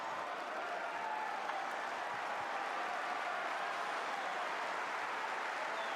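A Wimbledon tennis crowd applauds to encourage Laura Siegemund during her match against Sabalenka, a steady, distant wash of clapping that holds evenly throughout.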